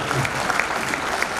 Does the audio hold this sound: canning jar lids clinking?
no